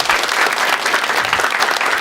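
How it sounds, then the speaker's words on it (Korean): An audience in a television lecture studio breaks into loud, dense applause, a continuous wash of clapping hands close up that holds evenly throughout. "또 큰 박수로 함께 청해 듣도록 하겠습니다"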